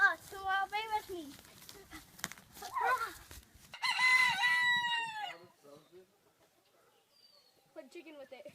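A rooster crows loudly a couple of times, long drawn-out calls, while people talk and laugh nearby, then a fainter cluck near the end.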